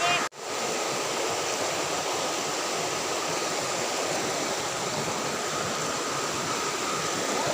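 Water rushes steadily through a narrowed small section of a river, a constant broadband flowing hiss after a brief dip at the start, close and even throughout.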